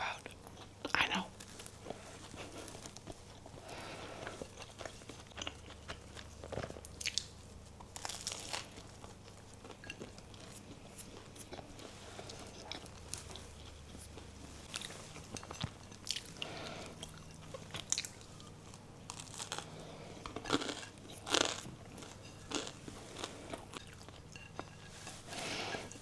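Traditional Danish bread being bitten and chewed up close, with soft crunches, wet squishing chews and occasional crinkling in an irregular rhythm over a long stretch, with faint whispery breaths between bites.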